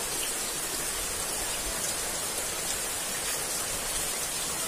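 Steady morning rain falls over a village, a dense, even hiss of drops on surfaces that stays loud and unbroken throughout with no voices.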